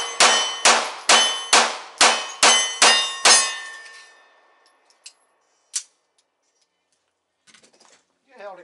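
Gunfire strikes a steel stop-sign target outdoors, ringing out as seven sharp clangs in quick regular succession, each with a bright decaying ring, followed by a few fainter pings and a brief bit of talk at the end.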